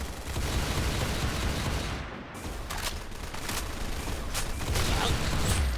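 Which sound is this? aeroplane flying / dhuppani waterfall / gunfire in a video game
gunfire in a video game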